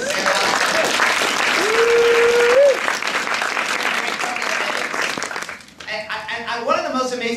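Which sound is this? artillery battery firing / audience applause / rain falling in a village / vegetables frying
audience applause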